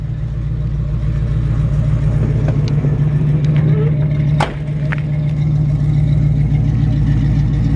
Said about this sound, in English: Really nice sounding exhaust.